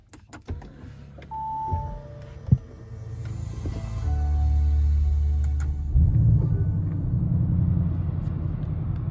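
An Audi RS6 Performance is started cold: door and cabin clicks, then the starter catches and the engine flares into a deep rumble before settling to a loud, steady idle.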